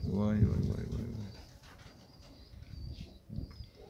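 A domestic pigeon being treated for a growth gives a short, low coo near the start, close but soft, while people talk over the rest of the moment.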